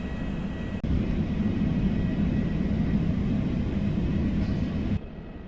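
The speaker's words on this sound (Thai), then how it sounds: "เครื่องบินจากกัวลาลัมเปอร์ก็เพิ่งจะมาถึงครับ" Malaysia Airlines Boeing 737-800 arriving at the gate after a flight from Kuala Lumpur, a steady loud low jet rumble and whine that holds for about four seconds, then cuts to a quieter hum.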